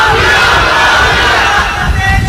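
A large crowd chants a religious slogan together at a sermon gathering, a loud, dense massed roar of voices holding steady throughout.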